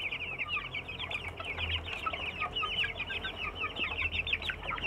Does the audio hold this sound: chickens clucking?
yes